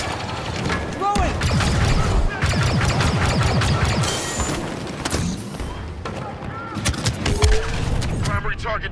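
Blaster fire and explosions from Star Wars Battlefront II gameplay, with dense bursts of shots, crashes and impacts through the whole stretch, loud and busy, with some game voices mixed in.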